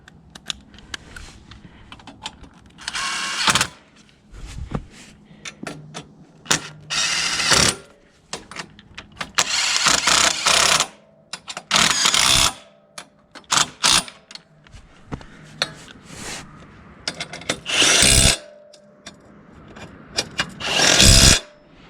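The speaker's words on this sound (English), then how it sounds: "use a 13mm socket to screw in the 2 big bolts on the sides" A ratchet with a 13mm socket tightens the large side bolts of a Touratech Expedition skid plate on a Yamaha Tenere 700. Repeated bursts of rapid clicking come up close, separated by short pauses and small handling noises.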